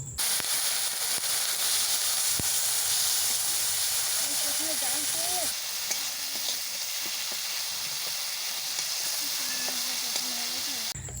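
Onion, ginger-garlic paste, chili powder and turmeric fry in oil with a splash of water, producing a steady loud hiss and sizzle throughout, with faint stirring and occasional clinks.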